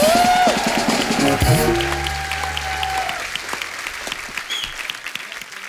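Loud, continuous applause from a comedy show studio audience, with a musical tone fading out at the start and the clapping thinning gradually toward the end.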